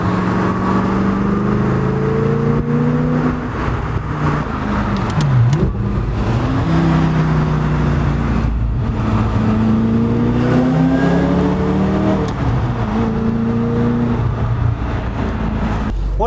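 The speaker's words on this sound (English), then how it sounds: "The exhaust note is just perfect." A supercharged Audi R8 with a six-speed gated manual revs hard and loud, its engine and exhaust rising and falling through repeated pulls in a steady, continuous drone.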